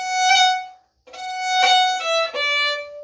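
A fiddle plays notes from the Floggin Reel with a G grace note, the bow pressed harder and moved faster to bring out the ornament, giving a bright, accented phrase in a few close, clear strokes.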